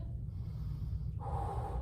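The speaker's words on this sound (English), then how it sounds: "Nice deep yoga breathing is going to help you out." Slow, deep breathing during a yoga-style core hold in a home workout, heard as close, soft airy breaths with a longer exhale toward the end, no talking.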